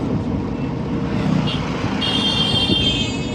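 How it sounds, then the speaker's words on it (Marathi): Road traffic on Dindori road near Nashik as light rain begins, a steady broadband rumble of passing cars and trucks with a faint high tone appearing toward the end. "त्यामध्ये ट्रॅफिक आहे"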